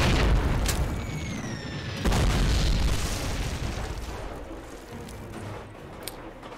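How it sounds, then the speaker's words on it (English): Grenade explosion in Call of Duty (2003), a heavy close boom followed by a second blast and a long rumbling decay, with faint whistling tones early on. "I'm gonna throw that grenade, mate."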